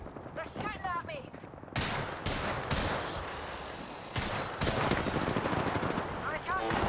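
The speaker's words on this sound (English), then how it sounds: "They're shooting at me." Gunfire in the Apex Legends video game, with repeated loud bursts of automatic weapon fire and sharp single shots in rapid succession, mixed with in-game character voice lines.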